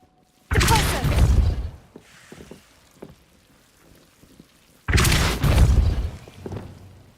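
Two loud, broadband spell blasts from Depulso in the Hogwarts Legacy video game, each a sudden booming burst lasting over a second, separated by a stretch of faint scattered clatter and rumble.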